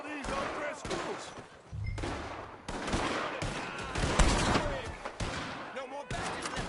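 Gunfire crackles through a shootout with O'Driscoll gang members in the video game Red Dead Redemption 2, with repeated sharp shots and thuds mixed among shouting voices and game noise throughout.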